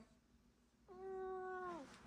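A single drawn-out cat meow, fairly faint and steady before trailing off, with quiet room noise around it and no talking.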